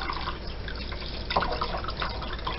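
Yarn being washed by hand in cold water while dyeing with food colouring, giving steady close-up splashing, dripping and trickling throughout with a brief louder slosh midway.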